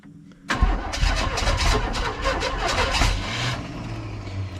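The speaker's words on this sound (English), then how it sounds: "Crank her on" A 1981 Chevy engine cranks after sitting for 29 years, starting with a burst of rapid, loud churning that stutters and labors on for several seconds, close and alone with no voices.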